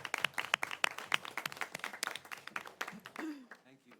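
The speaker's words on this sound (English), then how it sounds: "Let's give these people a round of applause." Audience at a public school board meeting applauding, a few seconds of scattered clapping that thins out and fades, with voices talking over it toward the end.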